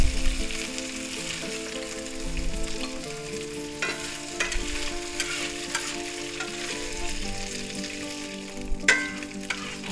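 Pork sizzles steadily in a hot pan for lo mein stir fry, with occasional sharper clinks from stirring and faint tonal music running underneath.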